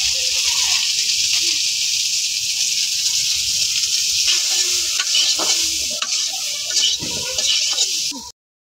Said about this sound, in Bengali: তারপরে আলুটি ভাজা নেওয়া হইতেছে